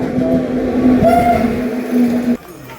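A train pulls into a station on a pilgrimage trip to Puri, with a steady loud hum and a long horn-like tone over rumbling wheels that stops abruptly near the end.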